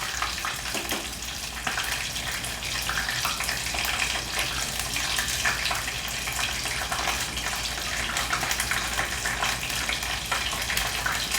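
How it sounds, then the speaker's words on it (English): Frozen pork and shrimp lumpia frying in oil, a soft, steady crackling sizzle that runs continuously for over ten seconds, close but fairly quiet, with no voices. "I'm just gonna fry those until they're nice and brown"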